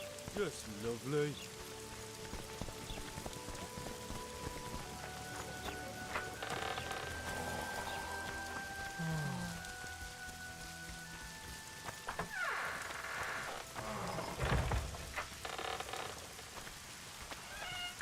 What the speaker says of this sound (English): I said it would rain.